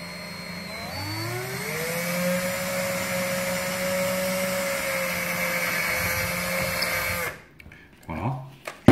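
Small-bit electric drill boring a hole, a steady motor whine that rises as it spins up and holds for about seven seconds before cutting off, followed by a brief clatter.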